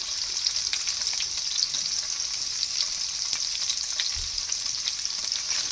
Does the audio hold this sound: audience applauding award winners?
no